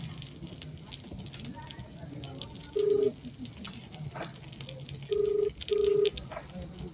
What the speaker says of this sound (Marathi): नंबर सध्या व्यस्त आहे